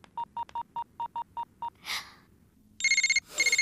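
A mobile phone signals an incoming call: eight short, evenly spaced electronic beeps, a breathy whoosh, then a loud, bright melodic ringtone begins in quick repeated bursts.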